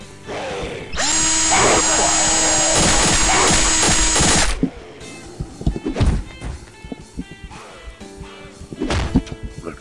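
A loud, whining drill weapon in the video game Postal 2 (Eternal Damnation mod) buzzes continuously for a few seconds, then gives way to scattered clanks, thuds and short mechanical bursts.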